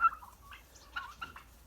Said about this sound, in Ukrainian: У нас тут 6 індиків і 2 індички.